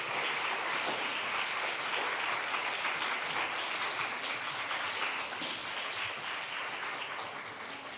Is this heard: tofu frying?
no